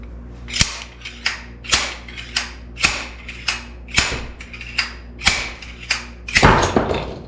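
A bearing puller works a suspension pivot bearing on a Santa Cruz Hightower mountain bike: loud, regular clicking cranks about every half second, ending in a heavier, noisier burst as the bearing gives way.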